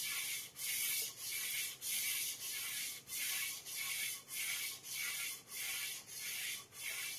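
A short track ice skate blade is sharpened by hand on a fine 1000-grit whetstone, making about a dozen steady, even rasping strokes in a close, regular rhythm.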